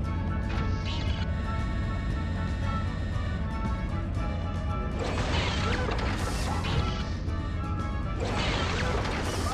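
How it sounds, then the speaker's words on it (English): Thrown cubes smash into crates in a video game, with loud crashing bursts over a constant dense mix of game sound effects and music. "Create cubes and throw them at the B&L crates."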